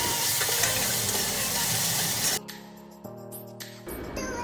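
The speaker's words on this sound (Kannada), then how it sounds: "ಹಾಕ್ಕೊಂಡು ಅದನ್ನು ಚೆನ್ನಾಗಿ ಫ್ರೈ ಮಾಡ್ಕೋಬೇಕು." Ginger garlic paste fries with onions in a pan for Bengaluru-style chicken donne biryani. A loud, dense sizzle lasts about two seconds, then cuts off and is replaced by music.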